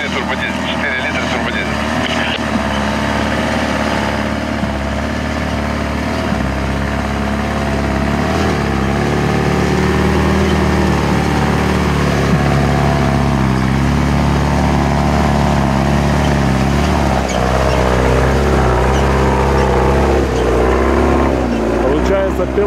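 Ford F-250 4x4 off-road truck with a 4-litre turbodiesel engine running loud and steady throughout, a continuous low drone with slight shifts in pitch and voices faintly underneath.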